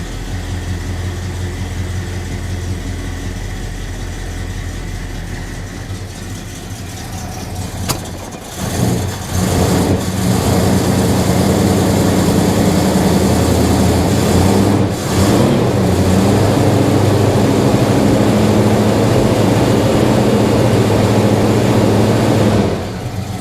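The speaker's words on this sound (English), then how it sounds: "I'm going to go ahead now and start the engine and let you all watch it warm up" A car engine with a divorced automatic choke cranks and catches, then settles into a loud, steady idle as it warms up, with rougher bursts of revving along the way.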